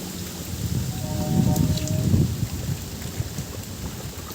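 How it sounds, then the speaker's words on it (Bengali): Rain falling outdoors with rainwater running in a stream toward a pond, a steady close wash of splashing and trickling water with a soft rise and fall, no voices. "এই যে দেখো এই জল যাচ্ছে, জলের স্রোত যাচ্ছে"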